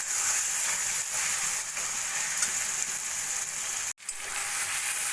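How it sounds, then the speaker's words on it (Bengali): Chicken pieces frying in oil while being stirred for hariyali chicken curry, a steady close sizzle throughout, with a brief dropout near the end. "এইভাবে নাড়া দিয়ে দিয়ে বেশ তেল ছাড়া ছাড়া করে চিকেনের পিসগুলোকে আমি আগে ভাজা ভাজা করে নিচ্ছি"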